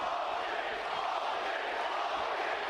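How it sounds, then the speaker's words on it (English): A steady wash of crowd noise fills an arena during a Rizin MMA fight, a constant broad roar of spectators with no pauses, heard at a distance. "You can hear the crowd."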